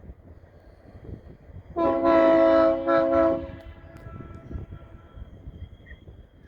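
A passing train sounds its horn in one loud, sustained blast of roughly a second and a half, then a shorter second blast, rising abruptly over quiet outdoor background at a picnic spot with a view.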